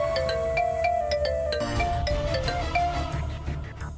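A mobile phone ringtone playing a bright repeating melodic tune, clear and fairly close, with an incoming call from an unknown number.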